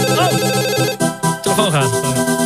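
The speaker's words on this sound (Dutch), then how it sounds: "telefoon gaat" A telephone rings during a Dutch radio show, its electronic ringtone tones sounding loud and up close in short repeated bursts, mixed with music and other sound.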